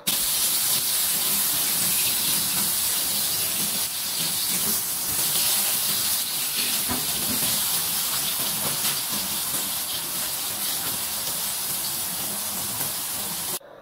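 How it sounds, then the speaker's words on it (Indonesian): Ground dory fish with spices stir-frying in hot oil, giving a steady, continuous sizzling hiss that stays even from start to finish with no voices. "Masukkan ikan dori yang tadi udah digiling bersama bumbu. Lalu diorak-arik supaya ikannya gak ngegumpal."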